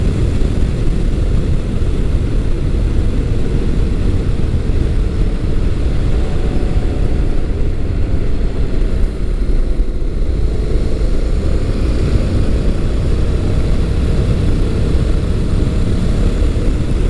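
A motorcycle is ridden on the road, an adventure-style bike such as a Honda NC700X, with steady loud engine drone and wind rush throughout, no talk.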